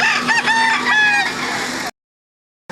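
A fighting rooster crows loudly and close by at a gamecock market, one long strained call, followed by a brief silence and the start of another sound.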